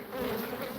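Honeybees clustered in a hive, a dense, steady close-up buzz that fills the brief moment.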